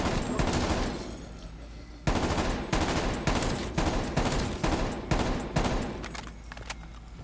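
Rapid game gunfire in a zombie shooter, about a dozen sharp close shots in uneven bursts, loud and sustained with brief gaps and a faint background hum.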